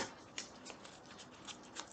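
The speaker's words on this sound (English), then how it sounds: "So let me just shuffle" Tarot cards are shuffled with soft, repeated riffling and papery slaps, quiet and close, with no talk.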